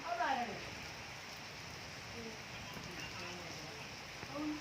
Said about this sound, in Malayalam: മഴ ഇങ്ങനെ പെയ്യുന്നുണ്ട്